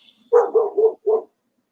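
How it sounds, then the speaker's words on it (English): A neighbor's dog barks four times in a quick run, alone and fairly close, with the barks spaced unevenly and no voices over them. "We got a neighbor that has a dog that all it does is bark."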